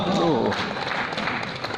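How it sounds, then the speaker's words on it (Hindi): Scattered clapping from a few audience members at a Hindi poetry and satire show in Bhopal, soft uneven claps over crowd murmur, with a voice speaking briefly at the start. "2-3 लोग ताली बजा रहे हैं"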